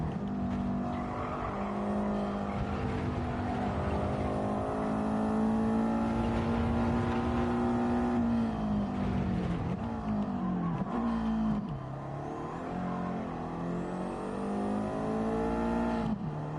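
A race car engine in Gran Turismo 7 revs hard on an uphill stretch, a loud, steady, continuous drone whose pitch holds high, dips sharply around the middle and then climbs again, with no talk.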